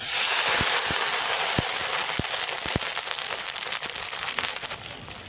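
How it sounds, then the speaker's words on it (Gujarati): Water poured into a hot pan of mustard seeds, green chilies and curry leaves in oil, a loud hiss that slowly settles, with a few sharp pops early on. "હવે આપણે પાણી ઉમેરીશું."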